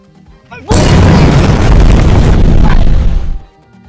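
A sudden, very loud explosion bursts in after a quiet moment, holding as a dense roaring blast for about three seconds before cutting off sharply.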